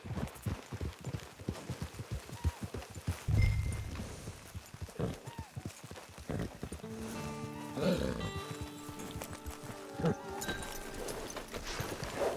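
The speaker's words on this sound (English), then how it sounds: "Get your horse." A horse in the Red Dead Redemption 2 video game trotting with rhythmic clip-clop hoofbeats, a brief snort, then game music and other sounds mixing in, with voices talking now and then.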